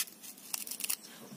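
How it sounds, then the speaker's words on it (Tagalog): A knife slices a large onion in half, giving a short run of crisp, faint crunching cuts close by, with no talk over it. "Next is yung ating sibuyas. Hatiin lang natin kasi malaki ito eh."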